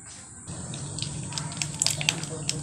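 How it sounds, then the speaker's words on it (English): Warm water runs steadily from a tap in the morning, a soft close splashing and trickling with faint drips. "Warm water in the morning."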